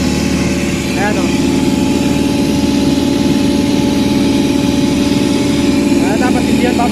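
An Airman 390 air compressor's engine runs at a steady idle during service maintenance in Nasugbu, Batangas, a loud continuous low rumble with a constant hum throughout.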